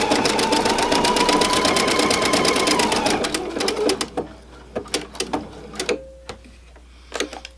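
A sewing machine stitching small zigzags on an inkle-woven bookmark runs in a fast, steady mechanical whir for about three seconds, then slows into scattered clicks and short bursts as it stops, close and without talk.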